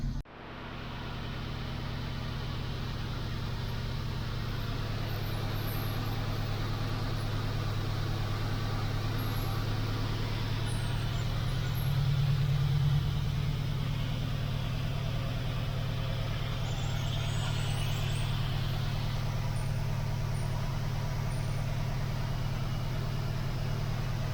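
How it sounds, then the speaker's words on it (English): A 1979 Pontiac car engine running at a steady idle, a continuous low rumble with even hum throughout and no voices. "it seems like the engine is going very nicely"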